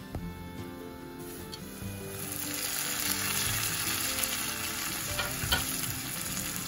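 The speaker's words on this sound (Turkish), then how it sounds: "soğanlarımız kızarmaya başlamış, karamelize olmuş" Onions caramelize in a covered pot with a steady, soft sizzle that swells slightly midway, with faint stirring clicks and no talk.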